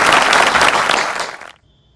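An audience at an Indian cultural celebration finale claps loudly in a dense burst of applause for about a second and a half, then it cuts off abruptly into near silence.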